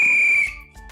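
A coach's whistle blown once, a loud, steady, piercing tone lasting about half a second and then cutting off abruptly into a low thud.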